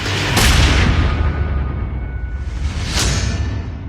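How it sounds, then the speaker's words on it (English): Gunshot sound effect: two heavy booming blasts a few seconds apart, each with a long sweeping tail, loud over a dense rumbling background and no voices. "That's when she heard the gunshot."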